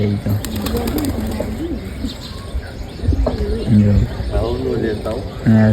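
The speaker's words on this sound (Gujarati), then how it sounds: "જો આપણા કબૂતર ખાય છે" Pet pigeons coo in low, repeated rolling calls close by, with light chirps mixed in, while people talk over them throughout.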